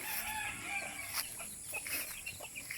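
Chickens cluck and a rooster crows faintly on a rural farm in the provinces, scattered calls over a light outdoor background.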